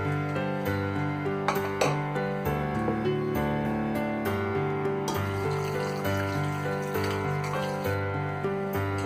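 Water poured into a pressure cooker holding lamb, salt and turmeric for curry, splashing steadily for several seconds while kitchen clatter and a few sharp knocks sound close by.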